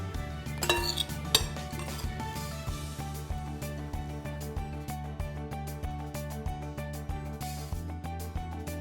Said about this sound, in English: Then we're going to serve our beans up on my dish here.